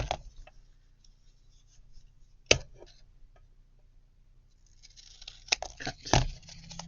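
Scissors snip through paper while making a junk journal tag, with one sharp cut near the middle and a cluster of louder snips and crinkles toward the end over quiet room background.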